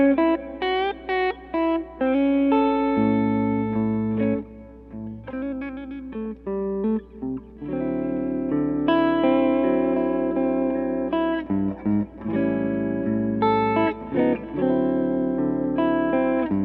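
Electric guitar plays single-note lines through a PRS Mary Cries optical compressor set near three o'clock, roughly 75%. The notes are sustained and evenly leveled, with a slight effect sheen, running continuously and steadily with no talking.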